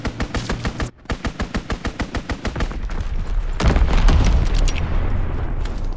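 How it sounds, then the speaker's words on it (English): An enemy strafing run in the shooter Call of Duty: WWII, a loud, steady burst of rapid machine-gun fire rattling in even pulses for about three seconds, then giving way to a heavy roaring blast and rumble. "Enemy strafing run incoming."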